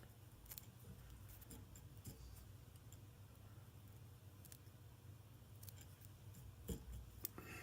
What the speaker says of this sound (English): I'll trim the hackle fibers that are sticking down.